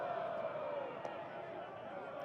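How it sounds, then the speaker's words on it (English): Faint, distant crowd noise from spectators at an NC State college baseball game in the 6th inning, a broad steady murmur of cheering that holds evenly throughout. "This crowd has come to life in the 6th inning"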